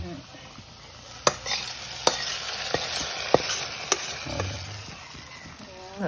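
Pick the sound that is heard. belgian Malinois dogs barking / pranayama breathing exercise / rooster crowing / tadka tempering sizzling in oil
tadka tempering sizzling in oil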